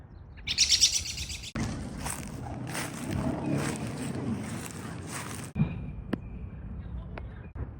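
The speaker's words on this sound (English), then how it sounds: "I spotted this small, I think it's a warbler." High, thin bird chirps ring out near the start, followed by faint rustling outdoor ambience and a few distant tweets.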